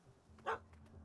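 A single short dog bark rings out in The Witcher 3 game world, fairly faint and set against a quiet ambient hum, with faint thumps around it.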